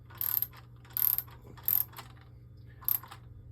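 A ratchet snugging a bolt on an engine, heard in four close, bright clicking bursts with short pauses between them, alone with no talk.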